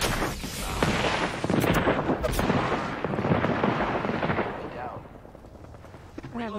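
Dense bursts of video game gunfire and explosive booms crackle almost continuously at close range, easing off toward the end, with a player talking over the action.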